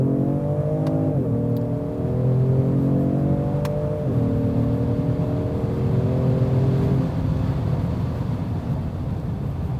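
A 2020 Genesis G70 3.3T AWD pulls hard under acceleration from around 3,000 RPM in fourth gear, its engine note rising in steady stepped harmonics as the loud, continuous drone climbs, with no talking.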